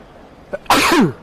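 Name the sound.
sneeze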